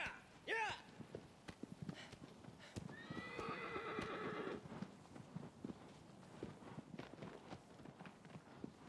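A horse in the video game Shadow of the Colossus whinnies, then clip-clops along in quick, steady hoofbeats, with a higher squealing neigh partway through, clear and close.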